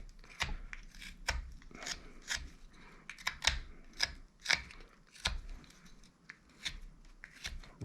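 A pocket knife whittles a small wooden wizard figure, shaping the hat: quiet, irregular shaving cuts and scrapes, close up and unhurried.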